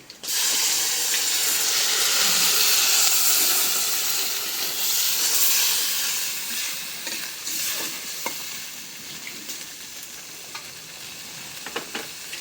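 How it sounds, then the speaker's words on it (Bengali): Water poured into a hot pan of fried onions bursts into a loud, steaming hiss that slowly settles, followed by softer sizzling and occasional utensil clinks as the mixture is stirred. "এখন একটু পানি দিয়ে দিই"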